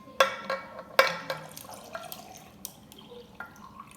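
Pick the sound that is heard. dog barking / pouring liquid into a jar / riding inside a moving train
pouring liquid into a jar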